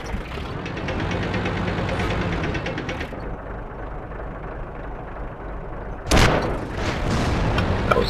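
A single loud, sharp tank cannon boom in the World of Tanks game cuts through a constant low rumble of a tank engine.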